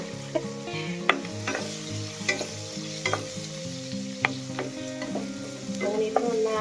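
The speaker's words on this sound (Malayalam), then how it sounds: "സവോളയും പച്ചമുളകൊക്കെ ഇട്ട് കൊടുക്കാം." Sliced onions and green chillies sizzle in hot oil in a pan for a pappadam curry, with a steady fry hiss and about a dozen sharp scrapes and clinks of a spoon stirring at an even pace.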